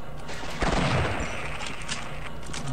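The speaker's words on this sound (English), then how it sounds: "Let's take shotgun for this guy." A shotgun fires in a Half-Life mod game, one loud, sharp blast rising over a dense, constant wash of game noise.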